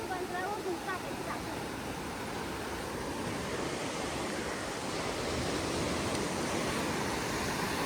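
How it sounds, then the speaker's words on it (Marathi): Sea waves washing onto the shore at a fishing village, a broad steady roar of surf with faint wind, and a brief voice near the start. "समुद्राचा आवाज बघा."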